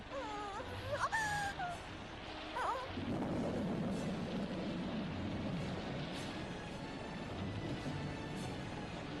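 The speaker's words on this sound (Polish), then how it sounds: "nadciąga burza" An approaching thunderstorm with a deep, rolling rumble of thunder building after a few seconds of eerie wailing tones, then continuing as a steady, dense wash of storm noise.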